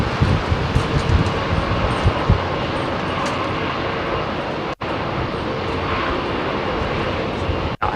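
An airliner departs runway 27R at London Heathrow with loud, sustained jet engine roar and broadband rumble, steady throughout apart from two brief dropouts.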